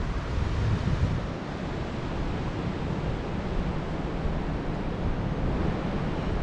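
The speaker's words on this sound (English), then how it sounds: "pretty windy" Strong, steady wind roaring across the microphone at a truck campsite, a continuous broadband rush with low rumbling gusts and no voices.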